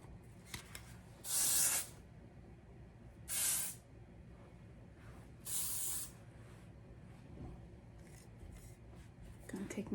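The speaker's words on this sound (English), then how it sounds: "lots of hairspray." Hairspray hisses onto styled hair in three separate short bursts, close and crisp, each lasting about half a second to a second, against a quiet background.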